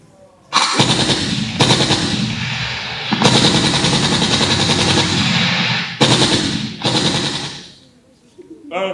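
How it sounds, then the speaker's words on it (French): Loud automatic fire from a machine gun, with long sustained bursts broken by brief pauses and a final tailing-off burst, heard close and alone. "Un fusil mitrailleur."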